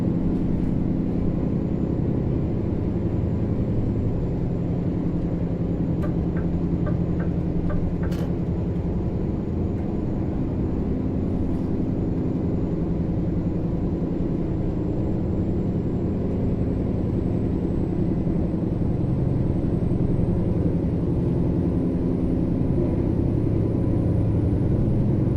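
Powerful American truck engine in Euro Truck Simulator 2 drones as a steady, broad low rumble throughout, with a faint rising whine on top and no talking.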